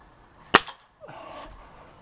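Magtech N2 air rifle firing a JSB Exact pellet, one sharp loud crack followed moments later by a fainter metallic ringing of the pellet striking the target.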